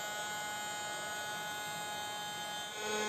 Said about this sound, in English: The paper pieces are too big for our vacuum cleaner.